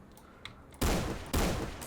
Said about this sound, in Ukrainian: Стріляє в цілому, як звичайний дробовик.